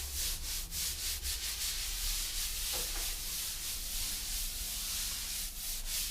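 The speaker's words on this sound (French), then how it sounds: "on ne frotte pas trop parce qu'on ne veut pas vider le joint, on peut juste le former" Hand rubbing to shape tile grout joints gives a continuous close scraping, steady rhythmic strokes with no voices.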